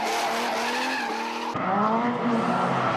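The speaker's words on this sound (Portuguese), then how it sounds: "Já no Evolution o carro é guloso, logo frita as quatro rodas numa driftada só" Mitsubishi Evolution drifting, tires squealing and skidding loudly across the whole stretch as the engine roars beneath, with a sharp change in tone halfway as the slide shifts.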